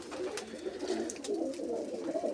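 A female pigeon coos softly in a steady, low rolling murmur, close by and fairly faint, with no voices alongside.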